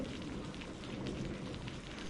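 Constant patter of rain on a surface, a broad even wash of drops with no voices over it.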